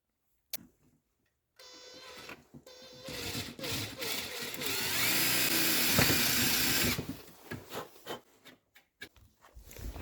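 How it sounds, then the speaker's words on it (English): Power drill boring very small holes into a homemade grill for a third-generation Toyota 4Runner, short bursts then a sustained whine of several seconds, close and loud, with handling noises around it. "I'm just gonna put a couple more, drilling very small holes."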